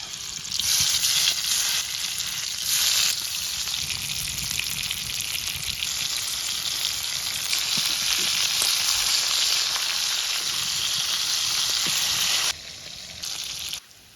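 Hilsa fish frying in hot oil, a dense, loud, continuous sizzle that holds steady for about twelve seconds before dropping and fading near the end, with no voices.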